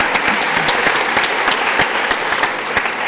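Lecture audience breaks into steady applause at a university leadership keynote, many hands clapping densely and evenly at full volume throughout, with no speech over it.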